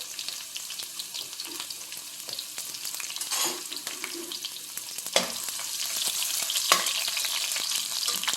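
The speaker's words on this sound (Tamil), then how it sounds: "இந்த பூண்டை போட்டுக்கிறேன். பூண்டு லேசாக வதங்கட்டும்" Large crushed garlic cloves fry in a pan with a steady, moderate sizzle that grows slightly louder over time, with occasional scraping stirs and a couple of sharper taps from the utensil.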